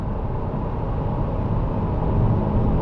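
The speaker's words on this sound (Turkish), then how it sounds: "Çok tatlı bir motor sesi var abi." Honda CR-V 2008 with a 2.0 i-VTEC engine driving on the road, heard from inside as a steady, dense low engine and road rumble with no talk.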